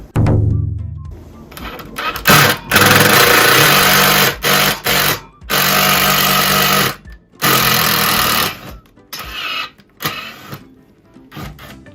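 A power driver sinks a self-tapping non-tap M4 screw into sheet metal in several loud, whining bursts separated by short pauses, close up.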